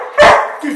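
A dog barking at a light, one loud, close, sharp bark followed by a brief softer yip.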